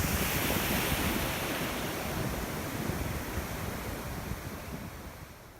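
Ocean surf on a boogie-boarding beach, a loud, continuous hissing wash of breaking waves that slowly eases over several seconds, with wind noise on the microphone and no talk.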